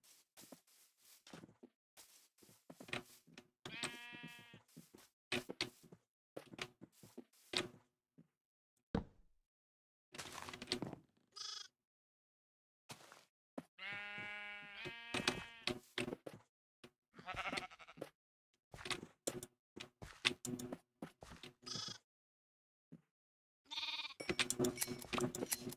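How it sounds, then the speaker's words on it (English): Sheep in a video game bleat in repeated short, wavering calls separated by silent gaps, some louder and closer than others, with a few soft footstep-like knocks between them. "There's 2 more sheep over there"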